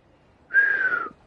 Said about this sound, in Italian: Prova a fischiare.